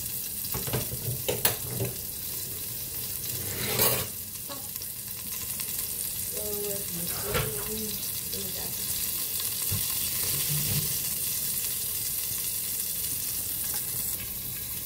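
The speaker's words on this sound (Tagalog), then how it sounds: "Gisa lang natin tong ating ginger, garlic," Ginger and garlic sautéing in oil, a continuous moderate sizzle with occasional stirring scrapes and clinks, fairly close and even throughout.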